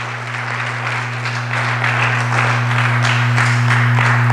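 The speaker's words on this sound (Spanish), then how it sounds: "Dele palmas al Señor." Applause from a church congregation during an evangelical sermon on Christ's resurrection, a dense steady wash of clapping that swells slightly over a constant low electrical hum.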